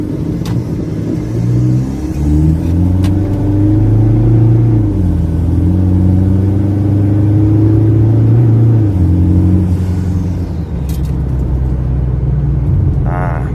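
A tuned Mazda BT-50 Pro pickup with a 2.2 engine and automatic transmission revs hard and loud up close, the engine note climbing and holding before easing back, with a steady rumbling drone throughout.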